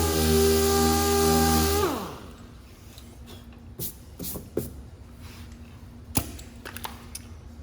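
A power sander on a car body panel, 80 grit, prepping for body filler: a loud whirring hum for about two seconds that winds down as the tool stops, followed by quieter scattered taps and knocks.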